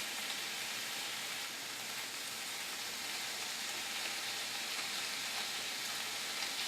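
Sirloin beef strips sizzling in a hot pan while cooking for lo mein, a steady bright frying hiss heard on its own without pause.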